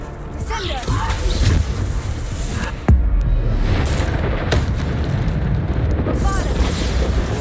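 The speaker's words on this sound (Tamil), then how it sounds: "வெடில நான் செத்துருவேனே." A loud boom bursts out of ongoing game audio during a hard-mode fight in the Hogwarts Legacy video game, with a sharp blast near three seconds over dense rumbling effects and music.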